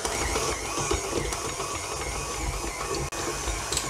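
A stand mixer kneads bread dough for tuna-stuffed rolls, running as a steady, close mechanical whir and rattle that holds at a constant level, with one abrupt brief dropout near the end.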